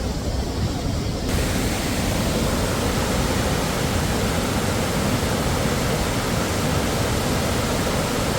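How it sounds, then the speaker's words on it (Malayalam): A waterfall on the Lower Periyar in Kerala, fed by water dropping from high above, gives off a steady, unbroken roar of rushing water that stays loud and even throughout. "ഇതാണ് ഈ വെള്ളച്ചാട്ടം, നമ്മൾ പറഞ്ഞ വെള്ളച്ചാട്ടമാണിത്."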